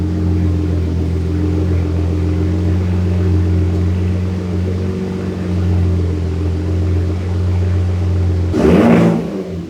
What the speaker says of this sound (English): Enabled Baja exhaust mode so that we could really hear how it's running.